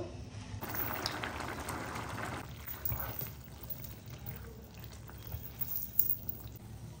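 Lentils poured into a pot of boiling rice for bhuna khichuri, a soft pouring and splashing lasting about two seconds, followed by quiet bubbling and kitchen noise.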